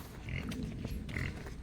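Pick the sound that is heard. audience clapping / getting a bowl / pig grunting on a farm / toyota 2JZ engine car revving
pig grunting on a farm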